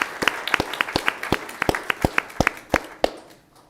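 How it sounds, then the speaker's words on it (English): Applause for city council staff at a council meeting: a sparse handful of people clapping, individual claps ringing out in an uneven rhythm and trailing off after about three seconds. "That's why we wanted individual applause"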